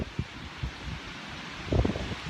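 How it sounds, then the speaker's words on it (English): Strong gusting wind buffets the microphone outdoors at a lakeside fishing spot, a steady roar of rumble and hiss that swells into heavier blasts near the end, with no voices. "It is so windy out here, it's like unbelievable how bad it is. You can probably hear it in this video"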